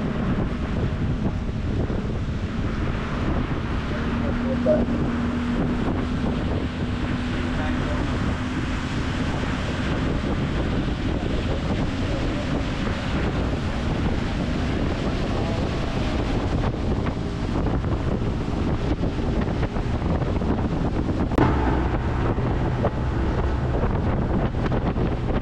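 A motorboat runs between Independence and Placencia in Belize, its engine droning steadily under heavy wind buffeting and splashing waves throughout, with no one speaking.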